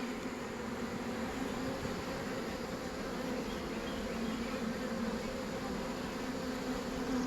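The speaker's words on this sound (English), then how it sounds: "A pile of bees." Honey bees at a hive box in Florida make a dense, steady buzzing drone that continues unbroken and fairly close throughout, with no one talking.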